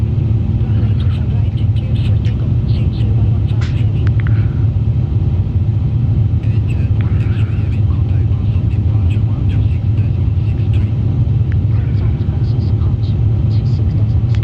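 Airbus A350 engines at climb thrust in a flight simulator, a loud, steady low roar and rumble that continues throughout, with faint voices over it.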